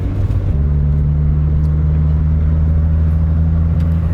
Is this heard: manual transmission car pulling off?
yes